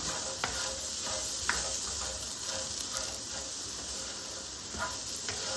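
Chenai roast sizzles in oil while being stirred, a steady close frying hiss broken by scattered scraping clicks from the stirring, with no talk over it.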